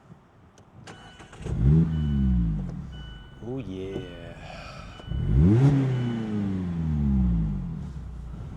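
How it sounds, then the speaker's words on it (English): A Mazda Miata engine with a Goodwin Roadster Sport exhaust is started and revved twice, each blip climbing sharply and falling back to a throaty idle, loud and close, with a brief spoken remark early on. "maybe you haven't heard my Goodwin Roadster Sport exhaust."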